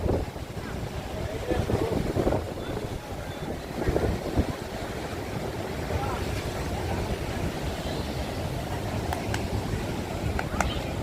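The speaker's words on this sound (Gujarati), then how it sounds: "અને મોજાની લેરકી જુઓ છો" Sea waves wash steadily near the shore at Bhadkeshwar Mahadev, a continuous broadband surf roar with gusty wind buffeting the microphone throughout.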